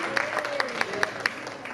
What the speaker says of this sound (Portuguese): uma salva de palmas, a estudante aqui, ó.